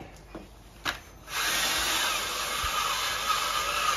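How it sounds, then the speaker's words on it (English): A couple of faint knocks, then a power drill starts up and runs with a steady, high whine for several seconds, close by. "you control that drill"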